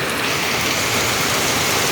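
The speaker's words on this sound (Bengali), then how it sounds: "হে আল্লাহ, বৃষ্টি থামিয়ে রোদ দাও আল্লাহ।" Steady heavy rain pours over a rural farmstead where harvested paddy and maize lie soaking, a dense continuous hiss filling the scene with no voices.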